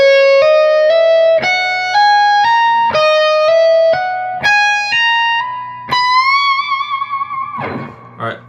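Electric guitar plays a quick run of picked and hammered notes through effects, each note sharp and ringing, closing on a sustained bent note with a wavering vibrato tail, loud and alone.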